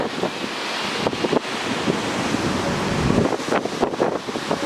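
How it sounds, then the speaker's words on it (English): Steady wind buffeting a microphone, a continuous rumbling roar with gusty surges and crackles throughout, no voices. "It's very windy out."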